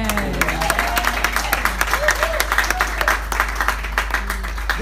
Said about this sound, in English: Which people are clapping for, the women or the men?